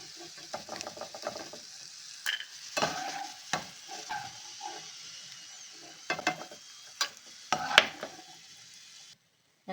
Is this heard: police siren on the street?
no